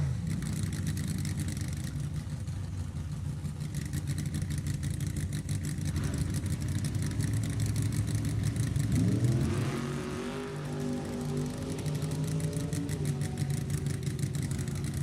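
Nostalgia drag racing car engine at an NHRA Nostalgia Reunion event, a loud rumbling idle that climbs sharply into a rising rev midway, then settles back to a steady throb.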